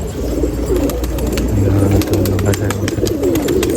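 Pigeons coo loudly and close by, a steady stream of soft repeated coos from Gauran pigeons held by their keepers, with a faint car or background hum underneath.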